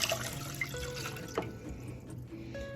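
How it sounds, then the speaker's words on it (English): Water poured into a rice cooker pot for sushi rice, a close, quiet trickling and splashing stream with small drips, no voices. "You want to go ahead and pour that in to your rice cooker."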